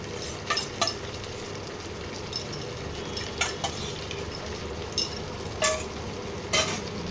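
Spiced meat fries and is stirred in a pan, a steady close sizzle broken by intermittent scraping and clinking strokes of a spatula against the pot.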